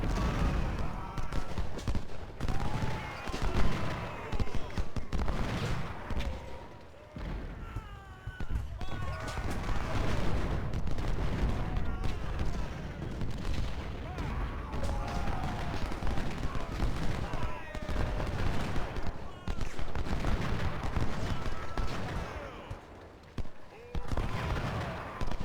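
Musket volleys and cannon fire from the Civil War strategy game Ultimate General: Civil War crackle and thump almost continuously, dense and layered under someone talking.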